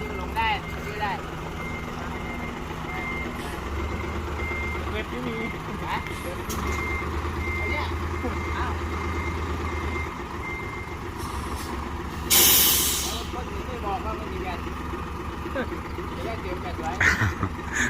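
A heavy truck pulls in with loud, repeated reversing beeps over a low engine rumble, then a sharp hiss of air brakes releasing; voices talk intermittently in the background.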